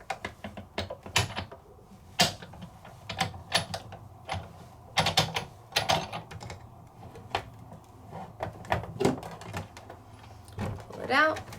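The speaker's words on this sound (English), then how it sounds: "Slow your roll because you're not just die cutting, you're transferring that foil" A Big Shot die-cutting machine cranked back and forth to transfer foil, giving a run of sharp clicks, ratchets and thumps at close range with quiet talk around them.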